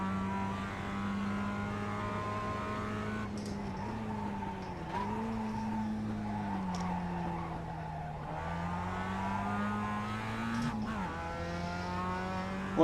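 A Mazda Roadster race car in the iRacing sim, its engine droning steadily with pitch dips and climbs as it brakes and accelerates through corners, with faint tire squeal, fairly quiet and without voices.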